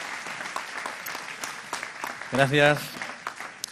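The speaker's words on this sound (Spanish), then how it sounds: "Fuerte aplauso para él." Applause from a seated audience at a panel conference on migration and the labour market, moderate clapping running under a brief spoken thanks from a man near the microphone.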